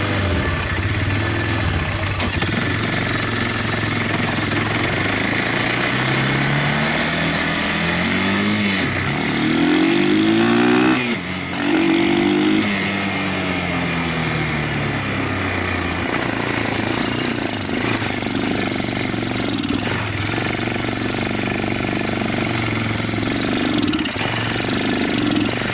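A Bear Tracker 250 ATV engine with a converted PZ30 carburetor idles loud and close, a steady rough mechanical chug with a rising and falling rev in the middle, no talk.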